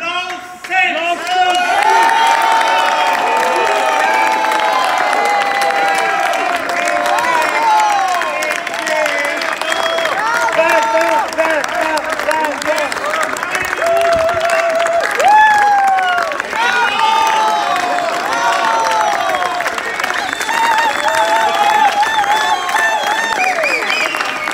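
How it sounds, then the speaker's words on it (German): Loud, sustained cheering and applause from a large crowd celebrating someone's 80th birthday at the end of a speech, with whoops and excited shouting running steadily throughout. "Es ist der Jubel. Der Jubel! Der Jubel! Es ist der Applaus selbst!"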